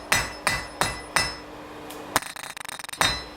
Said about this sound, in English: what I'm doing is hammering and drawing the metal towards me.